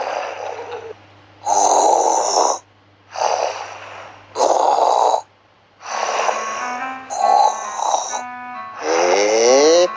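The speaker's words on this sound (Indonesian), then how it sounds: "Lah kok malah ngorok iki saut-sautan" Several people snore in turns, loud rasping snores and snorts that trade back and forth in bursts separated by short quiet gaps, close by.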